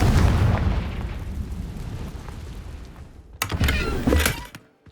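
The Confringo blasting spell goes off in the Hogwarts Legacy video game, a loud close booming explosion with a deep rumbling roll that fades out, followed by a brief crackling burst before the sound drops away to near silence.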